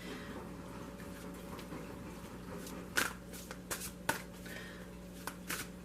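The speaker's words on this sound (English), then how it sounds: "I'm going to start shuffling the other cards." Soft, quiet tarot card shuffling with a few sharp riffles and taps against a faint steady hum, no talking.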